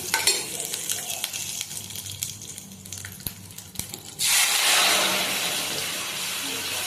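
A spoon stirs asafoetida into Tamil buttermilk curry, mor kuzhambu, in a pan: soft scraping and light sizzling, then a sudden loud, steady hiss that fills the last few seconds.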